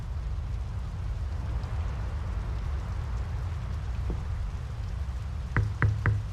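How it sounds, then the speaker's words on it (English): Steady rain in the video game Draugen hisses throughout, with a low rumble underneath and a few sharp knocks or drips near the end. "The rain's picking up."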